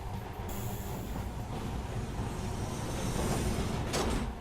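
Metro train at an underground station in Metro Last Light, a loud continuous rumble of railcars with rising roar and a sharp hiss near the end, heard alone without speech.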